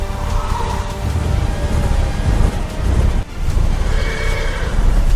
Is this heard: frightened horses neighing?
yes